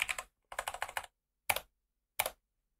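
A file name is typed on a computer keyboard in close, clear bursts of rapid key clicks separated by short pauses, ending with two single key presses.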